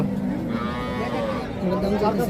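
A small red calf at Hazratpur cattle market in Dhaka gives a drawn-out, wavering moo close by, over the constant murmur of a busy crowd.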